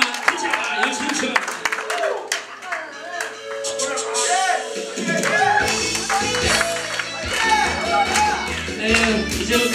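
Audience at a Korean fan club gathering clapping along to a trot song, rhythmic hand claps mixed with music and crowd voices, growing fuller and louder in the second half.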